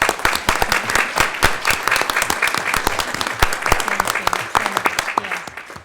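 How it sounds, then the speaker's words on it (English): A meeting audience applauds steadily for close to six seconds, dense overlapping claps holding an even level from start to finish with no break. "Let's give them a round of applause."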